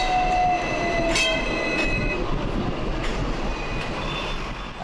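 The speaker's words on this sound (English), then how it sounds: "My house is near the tramway, so I'm familiar with the ding ding sound" A Hong Kong tram rolling along its rails, a steady close rumble with faint high wheel squeals and clanks, no voices over it.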